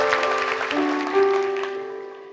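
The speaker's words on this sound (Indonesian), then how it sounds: "Kasih tepuk tangan tuh Tuhan." A church congregation claps during a sermon; the applause is brief and fades out beneath sustained organ or keyboard tones that linger afterward.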